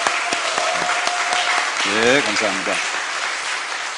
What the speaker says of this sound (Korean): 우리 큰 박수로 환영해 주실까요?